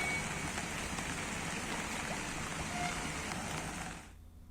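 Continuous heavy rain falls in Uttarakhand, a dense, steady roar of drops on surfaces that stays loud and even before dropping away abruptly near the end.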